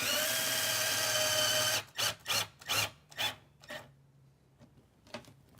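A power drill snugs down a fastener during wiring work in a Ford Transit camper van, four short bursts of whirring in quick succession after a steady broadband noise, then a couple of fainter brief blips, close and with no talking.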